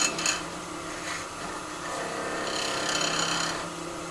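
A wooden box bottom being curved on a lathe with a sweeping cut, giving a steady close scraping, rasping hiss with slight pulses as the tool moves across the turning wood.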